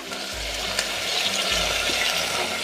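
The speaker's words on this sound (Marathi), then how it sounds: "टोमॅटो असा पूर्ण हलवून घेऊया" Tomato and cubed potato pieces stirred in a frying pan, a steady frying hiss with low scraping strokes of the spoon against the pan.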